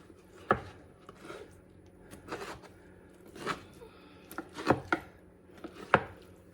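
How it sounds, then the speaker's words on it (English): A knife finely chopping drained canned artichoke hearts on a board, a handful of separate, sharp cutting strokes spaced irregularly with quiet pauses between, close and fairly clear. "this is a 13-ounce can of artichokes, the hearts, and I drained them, and I'm just gonna chop these real fine"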